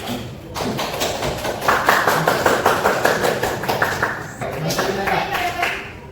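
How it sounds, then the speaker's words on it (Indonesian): A high school classroom claps in a steady burst of applause that swells for several seconds, with voices mixed underneath throughout. "Beri tepuk tangan untuk kita semua karena sudah semangat."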